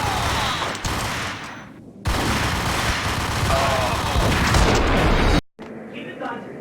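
Dense, loud gunfire rattles through a Max Payne firefight, with rapid overlapping shots and booming blasts. The sound cuts out abruptly near the end, leaving quieter scattered noise.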